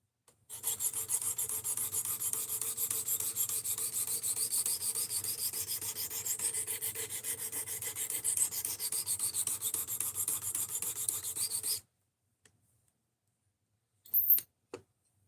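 A knife is sharpened on a Work Sharp RMX powered belt sharpener, giving a continuous bright abrasive rasp for about eleven seconds, then it stops, leaving near silence broken by a brief click.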